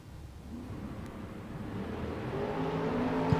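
An engine note from a race car on a drag strip rises steadily over a few seconds as the car accelerates through a time trial run, heard from a distance.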